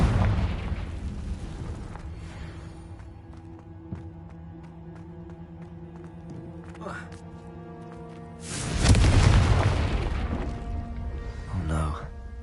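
A Confringo spell explosion in the Hogwarts Legacy video game: a loud fiery blast bursts midway through a stretch of game music and voices, followed by a rolling rumble and a smaller burst shortly after, with people talking throughout.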